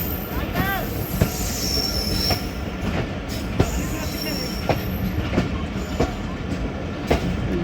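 A passenger express train runs on the rails between Jhelum and Wazirabad, wheels clattering in steady rhythmic clicks with occasional high squeals over a constant loud rumble.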